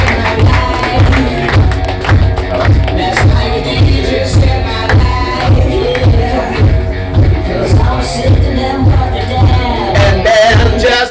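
A studio audience applauds warmly as guests Cyril and his son Baptiste come on to the show's theme music. The claps run under a loud, steady beat that carries through the whole stretch.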